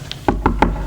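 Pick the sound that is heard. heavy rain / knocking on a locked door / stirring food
knocking on a locked door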